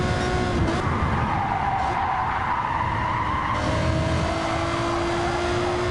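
A race car at Spa in Gran Turismo 7 holds a steady, loud engine drone in third gear, with a sustained tone shifting in pitch and tire skidding through a corner, and no voices.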